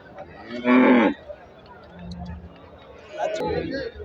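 Cattle moo once loudly and close, with a strong harmonic bellow lasting about half a second, at a weekly Thursday cattle market selling crossbred HF dairy cows, followed by faint livestock calls and crowd murmur.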